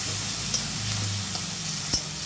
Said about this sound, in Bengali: তারপর আমি মশলা হলুদ আর কাশ্মীরি লঙ্কাটা গুলে রেখেছি, সেইটা দিয়ে দিলাম, দিয়ে কষিয়ে নিলাম